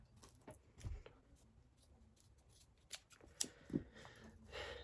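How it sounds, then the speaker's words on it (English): Scissors snip through rope in a few quiet, close, sharp cuts among faint rustling and handling noises, with no one talking. "I think we'll just cut it right here"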